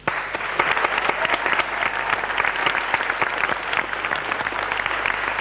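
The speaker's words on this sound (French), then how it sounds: "On vous applaudit." A TV studio audience applauds a couple in a 1983 French variety show, with dense, steady clapping that stays loud and continuous throughout, and no voices over it.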